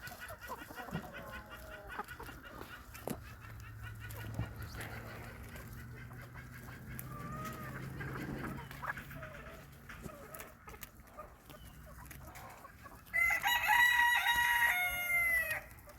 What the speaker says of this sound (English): You can hear other chickens talking about, hey, why aren't we being fed?